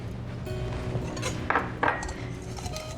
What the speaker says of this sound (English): we're going to whisk our eggs